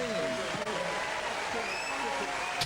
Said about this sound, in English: Big round of applause for Dave Boy Green.